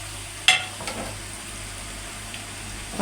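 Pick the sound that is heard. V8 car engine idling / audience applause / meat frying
meat frying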